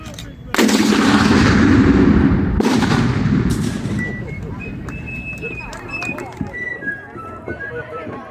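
A Civil War reenactment cannon fires a blank charge with a loud, deep boom; a second blast follows about two seconds later, then rumble fades into outdoor ambience with faint distant voices and scattered clicks.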